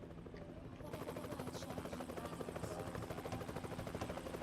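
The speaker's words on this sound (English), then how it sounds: "We've got helicopters." A helicopter in American Truck Simulator, its rotor giving a steady rhythmic thudding chop that grows louder after the first second and holds at an even level, with no talk.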